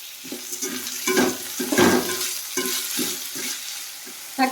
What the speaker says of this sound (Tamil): தக்காளி வெங்காயம்லாம் நல்லா வதங்கிடுச்சு